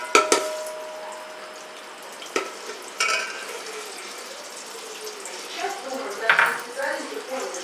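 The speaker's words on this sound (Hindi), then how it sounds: "1 कप ऑयल डाल रही हूँ।" Cooking oil poured into a pot for chickpea pulao, a soft liquid pour with clinks and scrapes of metal cookware in a home kitchen, with brief sizzles and clatter around it.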